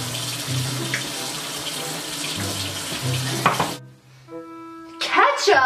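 Steady running water from a tap pours for several seconds, stops briefly, then starts again with a splashing gush and a few clinks.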